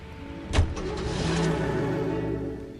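Car engine in the video game L.A. Noire, a brief loud rev near the start that settles into a steady mid-pitched engine drone carrying on to the end, with no talking.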